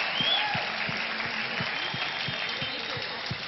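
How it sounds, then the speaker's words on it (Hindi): Studio audience at a televised talent show applauding both contestants, a sustained wash of clapping over music with a regular low thumping beat. "एक बार जोरदार तालियां बजाएं दोनों के लिए प्लीज."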